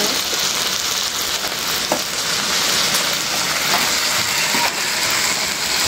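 Garlic and green chilies fry steadily in a pan, a close, continuous hiss and crackle of hot oil with small pops scattered throughout and no voices.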